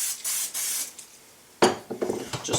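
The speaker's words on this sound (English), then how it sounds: "take your pizza tray, spray with some cooking oil." A few short hissing bursts of cooking oil sprayed onto a pizza tray, then a louder clatter of the tray being set down and handled nearby.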